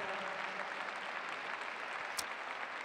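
Spectators at an Hermès show jumping event applaud a 16-year-old rider, a soft, distant, continuous patter of clapping from a large crowd with one brief sharp knock near the end.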